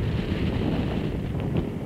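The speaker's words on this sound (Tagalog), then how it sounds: "Kasi yung malakas na hangin eh." Strong wind buffeting the microphone during a drive near the Sierra Madre resorts, a steady low rumble filling the short stretch with no talk over it.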